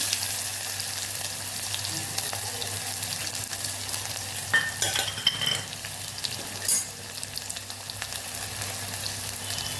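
Onion frying in a pan, a constant close hiss with a few louder scraping stirs near the middle, steady and unbroken, no voices over it.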